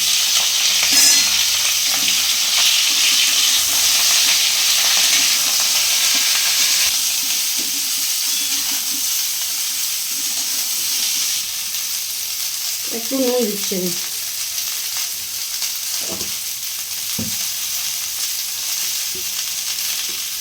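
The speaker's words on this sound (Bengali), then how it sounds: "প্রথমে আমি ফুলকপিটা ভেজে নেব।" Cauliflower fries in a pan for aloo fulkopi with a loud, continuous sizzle and stirring scrapes nearby. A voice speaks briefly partway through.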